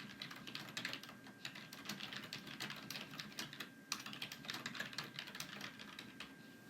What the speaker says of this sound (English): So I'm going to type a sentence.